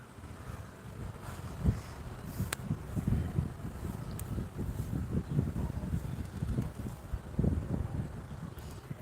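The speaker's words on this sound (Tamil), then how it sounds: "காற்று அடிக்கிற சவுண்டு கேட்குதுல்ல" Gusty wind in Coimbatore buffets the microphone in low, uneven rumbles, rising and falling throughout with no talking.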